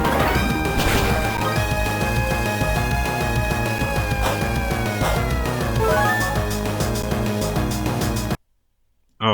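A Rock Smash attack from the handheld game Pokemon Platinum, heard as a loud crunching impact among battle effects and chiptune music that fills the clip, then drops into a brief silence near the end.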